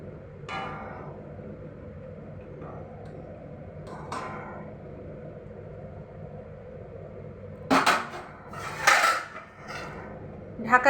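Metal lid set onto a pot of mustard fish curry on the stove, a few sharp clinks and clatters near the end after a quiet stretch with faint background noise.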